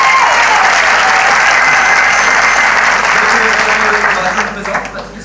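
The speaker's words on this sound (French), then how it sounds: "Un tonnerre d'applaudissements." Loud, sustained applause from an audience at a magic and striptease show, dense clapping that continues evenly before thinning slightly at the end.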